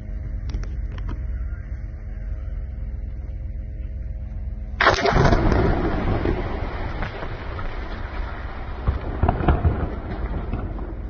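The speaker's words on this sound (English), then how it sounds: "The IDF is finally destroying a mosque in southern Lebanon that Hezbollah has been using as part of its terror infrastructure" A demolition blast hits a mosque in southern Lebanon. After a low steady hum, a sudden loud explosion breaks in and trails into a long rumbling roar of debris and dust, heard from a distance without any voices.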